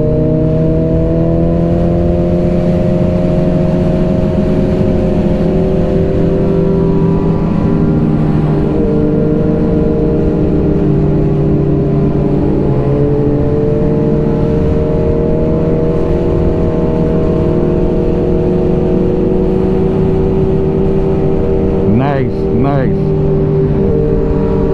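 Motorcycle engines at an outdoor bike meet, a loud steady drone of several idling and revving engines with pitch shifts throughout and a sharp rev near the end.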